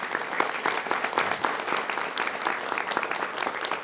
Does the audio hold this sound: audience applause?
yes